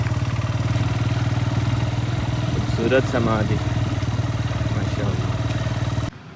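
A motorcycle rides along with a steady engine drone throughout, loud and close, as someone speaks over it.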